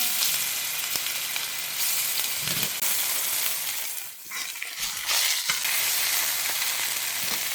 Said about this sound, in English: We want to make sure the oil is nice and hot because we want to seal this meat when we put it in.